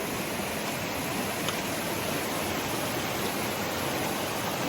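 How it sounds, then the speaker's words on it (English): A rainforest creek and waterfall flow at a junction of streams, a dense, even rush of water like constant hiss, loud and unbroken with no voices. "we're just hitting the junction of the creek now"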